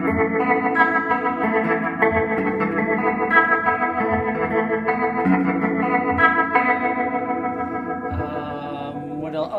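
Electric guitar played through a Leslie-style rotary speaker effect pedal on a pedalboard, sustained chords with a warbling, swirling shimmer that stays steady and fairly loud throughout, with no talking.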